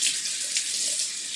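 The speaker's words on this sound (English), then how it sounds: "now wash my hands" Tap water runs steadily into a sink while hands are washed during a live cooking demonstration, a close, continuous hiss and splash with no talking.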